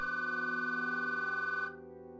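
A telephone rings with a steady warbling electronic trill for under two seconds, then cuts off abruptly into silence, with no one speaking.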